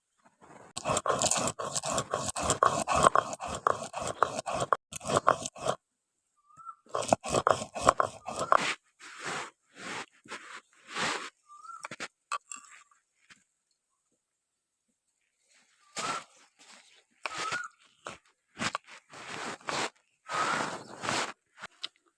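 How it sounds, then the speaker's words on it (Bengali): White mustard seeds ground into paste on a grinding stone for a small-fish curry: repeated rough scraping strokes in quick rhythmic bursts, fairly close, with short pauses between runs and no talking. "আর নিয়েছি সাদা সর্ষে এই সর্ষেগুলো এখন বেটে নেবো"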